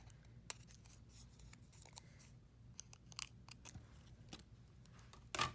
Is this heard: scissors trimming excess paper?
yes